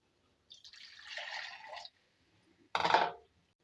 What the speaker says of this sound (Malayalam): ഇതിലേക്ക് ഒരു കപ്പും കൂടി വെള്ളം ഒഴിക്കുക